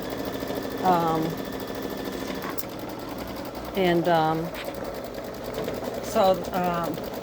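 A Babylock Solaris Vision embroidery machine stitching a truck design for a T-shirt gives a steady close mechanical whir with a rapid needle rhythm, broken by a few brief higher tonal sweeps, with no voice over it.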